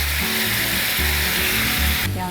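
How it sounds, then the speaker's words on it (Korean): Seasoning sauce poured into a small octopus and pork stir-fry sets off a loud, constant sizzle close by, with no voices over it. "준비한 양념장을 여기 넣어주세요"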